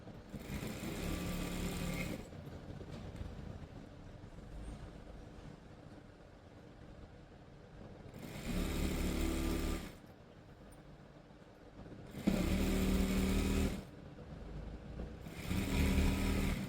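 A sewing machine stitches the folded hem of school uniform pants in loud, steady whirring bursts of about two seconds each, separated by quieter pauses, with no talking.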